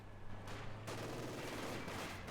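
Gunfire from a Company of Heroes 2 battle, with sniper and machine-gun squads fighting over a field: a steady, fairly faint crackle of shots that thickens into a denser, continuous volley partway through, with no talk over it.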